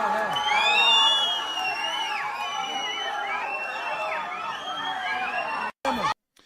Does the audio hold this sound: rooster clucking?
no